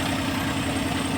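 A car engine idles roughly because of a faulty spark plug or ignition coil, giving a steady, close, low rumbling drone with an uneven pulsing throb and no talk.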